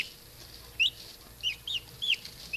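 Turkey chicks peeping in high, short chirps, five or six quick calls spaced irregularly, close and clear above a faint low background hum.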